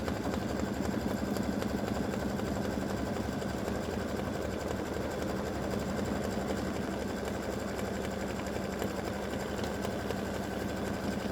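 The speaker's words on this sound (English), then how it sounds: "it does stitch in a triple stitch, so it will stand out." A sewing machine runs continuously at a steady hum and rapid buzz while triple-stitching a star appliqué onto fabric, close and even throughout with no talking.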